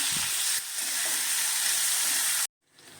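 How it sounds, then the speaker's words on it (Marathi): Onion and tomato frying in a pan for a cauliflower curry, a steady close sizzle with a brief stir near the start, cutting off abruptly before the end. "आता आपण त्याच्यात टाकूया टोमॅटो मिक्स करूया टोमॅटो मऊ होईपर्यंत आपण भाजून घेऊया"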